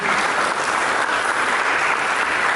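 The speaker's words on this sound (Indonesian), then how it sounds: "Berikan tepuk tangan bagi Tuhan." Church congregation clapping for God during an Indonesian sermon, a dense, steady wash of applause filling the whole moment at even loudness.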